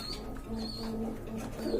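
Pakistani high flyer pigeons coo softly nearby, low throaty murmurs overlapping in a short burst, with a few faint higher chirps.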